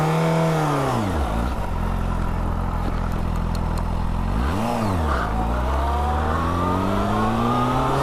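A Yamaha FZ6 motorcycle engine with stock exhaust idles then revs up and down twice, the pitch rising and falling in smooth sweeps, loud and close, with a mild exhaust note.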